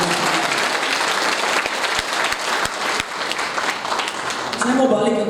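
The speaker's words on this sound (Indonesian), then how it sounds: "Sama-sama tepuk tangannya buat Tuhan." A church congregation claps together during an Easter service, a dense steady wash of applause with a few sharp louder claps, tapering toward the end.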